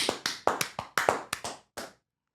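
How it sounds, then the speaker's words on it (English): A handful of sharp, close hand claps in an uneven rhythm, about nine in quick succession, followed by silence. "Clap if you want the fairy to be alive."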